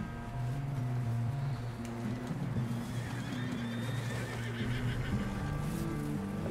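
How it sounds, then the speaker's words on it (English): A horse whinnies in the Red Dead Redemption 2 video game, a faint neigh under a steady wash of game ambience, hoof clops and background music. "How do you get on the horse again?"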